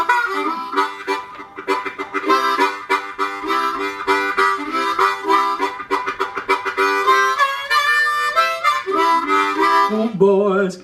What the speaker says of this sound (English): And I'm just going to use a harmonica.